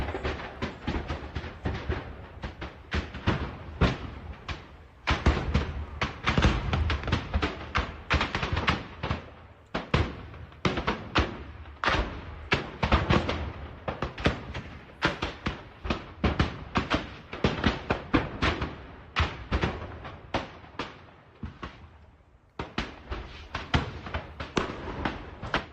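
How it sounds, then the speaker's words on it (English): A burning ammunition dump in Crimea sets off rapid, irregular cracks and bangs, popcorn-like bursts of detonations crowding together for nearly half a minute, heard from a distance with no talk. "We did get to see the ammunition explosion from another angle here."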